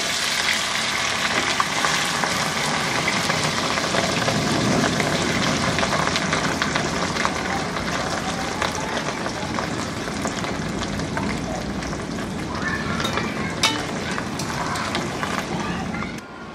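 Washed, drained dried fish fries in medium-hot oil for a Indonesian-style dried fish salad, giving a loud, dense, steady sizzle and crackle that runs unbroken from start to finish.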